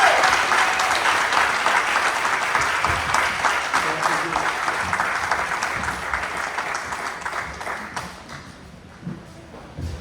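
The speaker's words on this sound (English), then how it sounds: "Can you give them a nice round of applause?" Audience applause at a live concert fills most of the clip, steady and fairly loud, then thins out and fades toward the end.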